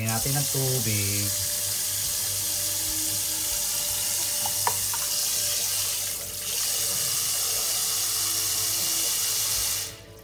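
Water pours steadily into a pot of bulalo beef soup on the stove, a loud, continuous rushing splash that thins briefly partway through and ends abruptly.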